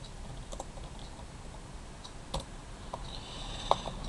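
A handful of sparse, faint keystrokes tapped on a computer keyboard, isolated clicks spaced out over a quiet room background with no talking.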